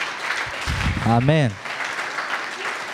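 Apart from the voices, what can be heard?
church congregation cheering and applauding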